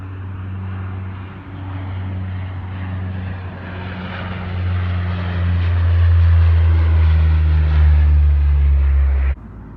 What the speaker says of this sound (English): It had propellers on it. It had 4 sets of propellers.